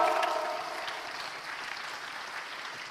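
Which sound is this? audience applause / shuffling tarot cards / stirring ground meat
audience applause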